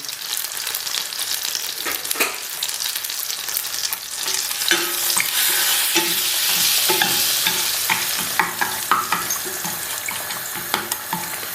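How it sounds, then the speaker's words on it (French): Peppercorns toasting in a hot pan for a pepper sauce, stirred with frequent scraping clicks and rattles over a steady bright sizzle that swells in the middle, close and fairly loud, no talking. "Je mets mon poivre en boule. Je vais ensuite remuer."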